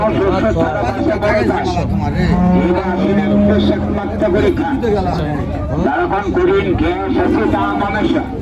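A cow lets out a long low moo amid the busy hubbub of a crowded cattle market in Panchbibi, Bangladesh, with people talking close by.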